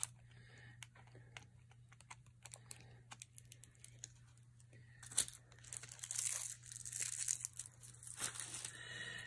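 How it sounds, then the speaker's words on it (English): Protective plastic film being peeled and crinkled off a thick beauty product, a series of close, quiet crackling tears and rustles over a steady low hum, growing busier toward the end. "Just gonna open one just so you can see. Make sure you take plastic off of both sides."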